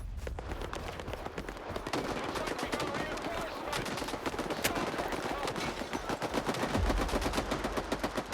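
Rapid automatic gunfire rattles through a firefight in S.T.A.L.K.E.R. 2: Heart of Chornobyl. Dense, fast bursts repeat steadily and grow slightly louder toward the end, with a voice talking faintly underneath.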